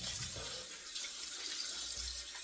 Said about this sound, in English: what we'll do now is we'll just rinse off really well